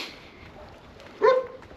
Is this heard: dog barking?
yes